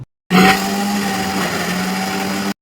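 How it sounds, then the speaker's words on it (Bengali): A mixer grinder jar whirs steadily as fresh bread is blended into bread crumbs, a loud continuous motor drone that starts abruptly and runs for about two seconds before cutting off. "একটা মিক্সি জারের মধ্যে ব্রেডগুলো নিয়ে নিলাম, খুব ভালো করে এটাকে মিক্স করে নেব।"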